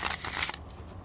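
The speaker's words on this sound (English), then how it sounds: "Come on, one more shuffle." Tarot cards being shuffled by hand, a brief close riffle of crisp card flicks lasting about half a second, then quiet, with no talk.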